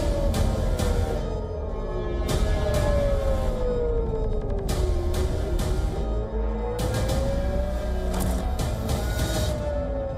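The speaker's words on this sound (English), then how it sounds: "Sirens tearing through the quiet night." Air raid siren wailing at night in Israel during a missile attack, a loud rising and falling tone sweeping slowly over a steady background hum, with bursts of other noise.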